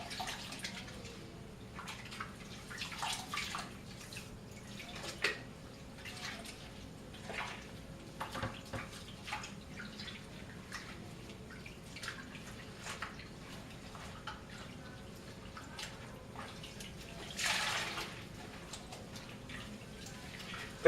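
Water sloshes and drips in a basin as a synthetic wig is agitated by hand during washing, soft intermittent splashes and trickles that swell briefly near the end, no speech.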